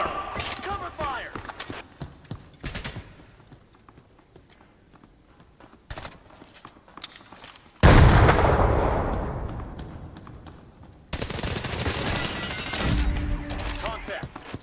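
Gunfire in the tactical shooter Hired Ops, with scattered shots early on, then a loud burst of sustained firing and explosions that fades and returns as dense volleys near the end.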